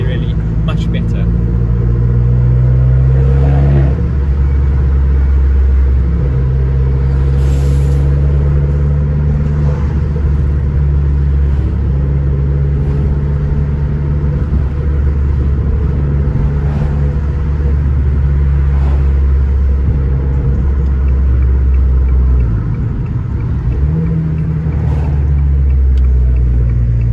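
An Abarth 595's engine and exhaust drone in a low, steady rumble throughout, with occasional swells as the revs rise, while a voice talks over it.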